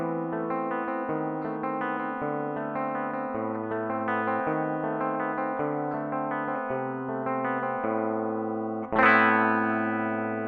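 Electric guitar recorded through a Focusrite Scarlett audio interface, playing a distorted, effects-laden riff with sustained notes and bass movement, ending on a loud strummed chord that rings out; close and alone, with no talking.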